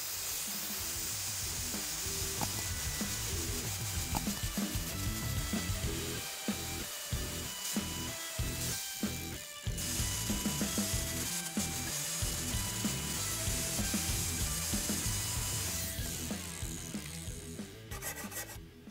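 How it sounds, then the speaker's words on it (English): A wire brush rasps steadily across Cub Cadet mower blades to scrub off clinging grass, giving a continuous close scraping with irregular strokes and brief knocks throughout, without speech. "Just a little wire brush, just to continue to get some of that off"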